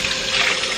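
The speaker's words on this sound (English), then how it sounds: "let me rinse this out real quick" Water from a tap runs steadily into a kettle being rinsed out, a continuous close rushing splash with no other sounds.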